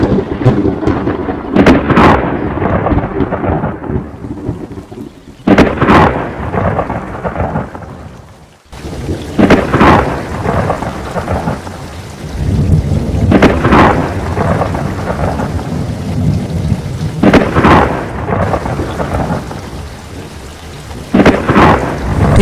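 A cartoon thunderstorm pours heavy rain with repeated sharp cracks and booms of thunder, loud and close, breaking into several bursts with a brief hush midway and no voices.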